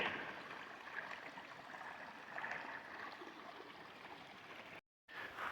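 A partly frozen moving creek flows steadily in freezing weather, a constant close rushing and gurgling wash that breaks off briefly near the end.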